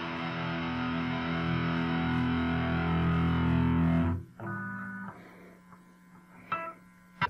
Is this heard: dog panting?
no